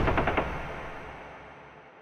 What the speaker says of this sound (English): the sound of gunfire crackling through his phone